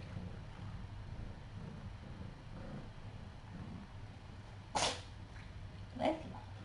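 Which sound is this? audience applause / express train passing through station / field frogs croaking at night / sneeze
sneeze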